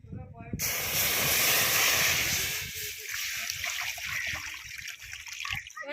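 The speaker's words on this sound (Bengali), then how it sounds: "এবার আমডাল রান্নার জন্য কড়াইতে জল দিয়ে দেবো" Water poured into a hot wok before cooking mung dal, a sudden loud hissing burst of steam that settles into a bubbling simmer, close up, with no talking.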